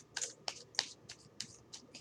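Oracle cards are shuffled by hand in a quick series of about seven crisp riffling bursts, close and fairly quiet, with no talking over them.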